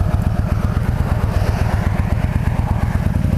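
A motorcycle engine runs loud and close, its rapid, even pulsing throb holding steady throughout with no other sounds on top.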